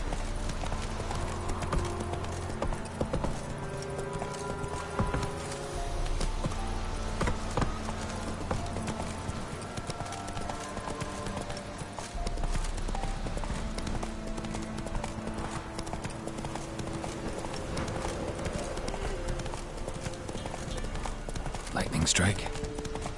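Horse hooves clip-clopping steadily in The Witcher 3, a continuous rhythmic trot over game ambience, with a voice talking over part of it.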